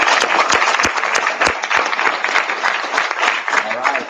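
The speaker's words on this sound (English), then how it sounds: "Let's give all the parents a big hand." Close, loud applause from an audience at an entrepreneur-themed youth camp, a dense continuous patter of many hands clapping with a few sharp individual claps standing out throughout.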